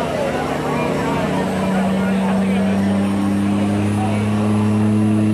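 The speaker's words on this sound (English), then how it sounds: "getting the RPM up, getting the turbo working" A diesel truck at a 2.5/Open diesel truck pull in Charles City, Iowa, drones loudly and steadily as its engine pitch climbs and holds, with crowd noise and a voice talking over it.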